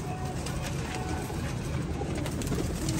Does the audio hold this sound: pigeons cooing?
yes